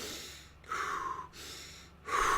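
A voice imitates breathing through the nose while chugging a drink, giving three sharp nasal inhales and snorts in a steady rhythm, close and fairly quiet.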